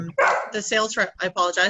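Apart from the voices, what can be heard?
dog barking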